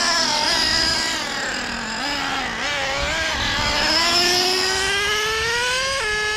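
A Traxxas Revo Survivor Edition nitro RC truck engine screams loud and close, its pitch climbing and wavering through sustained revs, then dropping abruptly near the end as the two-speed transmission shifts.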